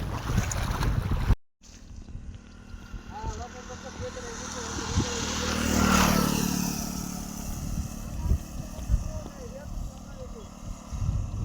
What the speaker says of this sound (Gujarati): ફૂલ પાણી જાય છે અત્યારે।